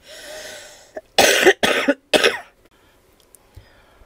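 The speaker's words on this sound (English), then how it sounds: "I still have my cough" Three harsh coughs in quick succession, loud and close, following a brief hum of breath, then quiet.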